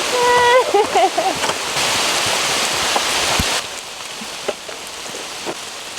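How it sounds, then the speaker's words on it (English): Steady, heavy rain hissing on surfaces nearby, with a brief voice and a few louder splashes early on. "It just keeps raining harder and harder."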